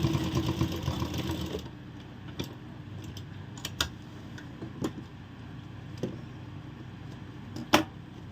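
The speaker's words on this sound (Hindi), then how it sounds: "सिर्फ उसको हम इस तरह रखेंगे और सिलाई लगाना है और दोनों हाथ से खींच देंगे" A sewing machine runs in a steady close whir for the first second and a half while stitching a ladies' palazzo pant. Quieter clicks and handling taps follow, with no talking.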